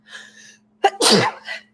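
A single close, sharp human sneeze, preceded by a brief soft intake of breath, over a faint steady electrical hum in an otherwise quiet room.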